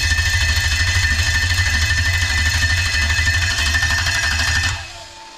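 A Lexus UZ-FE V8 with a manual gearbox and new wiring harness cranks over on the starter in a loud, fast, steady chugging rhythm for several seconds before stopping abruptly and winding down.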